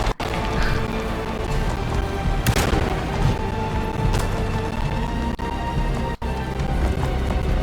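Gunfire rings out in the 2024 game Alone in the Dark, a few loud sharp shots over a dense rumbling background, with heavy booms and scuffling between them.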